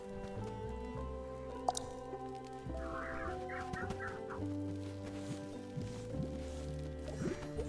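Game birds in Cozy Grove cluck and gobble in short, quiet bursts over a soft, steady tonal music bed, with no voices.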